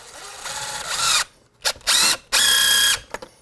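A power drill drives screws into a new window frame during a window replacement, in three bursts of high whining spin: a long run, a short one, then another long run, with brief pauses between them, loud and close.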